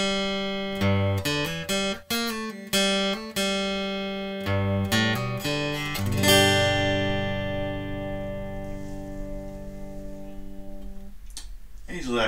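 Yamaha SLG200S silent guitar set fully to its acoustic modeling blend, strummed chords and single plucked notes that ring out and sustain before fading, alone with no talk.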